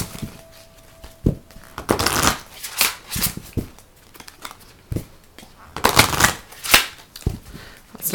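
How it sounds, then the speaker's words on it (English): Tarot cards are shuffled by hand in bursts of riffling and rustling, close and fairly loud, with short pauses between the shuffles and no talk. "I'm just going to shuffle these like this."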